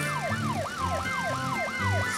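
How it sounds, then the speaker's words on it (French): A police siren wails in a fast, repeating rise-and-fall, loud and close, with a low steady hum beneath it. "C'est la voiture de police."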